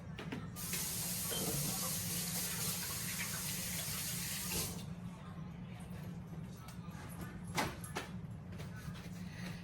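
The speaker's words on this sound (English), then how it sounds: "Let me wash my hands real quick." Hands being washed under a running kitchen tap during meat sauce preparation, a steady broadband hiss of spraying water lasting about four seconds and then cutting off, followed by quieter kitchen clatter.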